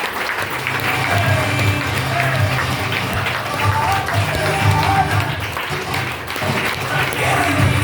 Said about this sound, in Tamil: நம்ம சார்பில் நல்ல ஒரு உற்சாகமான கைத்தட்டல் கொடுக்கலாமா?